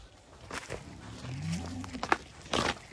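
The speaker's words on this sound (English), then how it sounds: "That's your cow." Cattle on a farm with calves nearby: a cow lets out a low moo, with other lowing and shuffling around it, fairly close and moderately loud, no talk.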